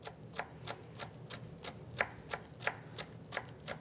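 A knife chops fresh herbs such as parsley or dill finely on a board in a kitchen, a quiet, steady run of crisp taps about three per second.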